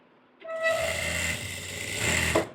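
A sewing machine stitches along a pant pocket, running in one steady mechanical whir after a short start and stopping near the end, with no talking.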